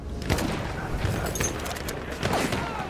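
Battlefield 1 gunfire rattles in the distance as a continuous fusillade of rifle shots and distant booms, a dense rumbling bed of battle noise.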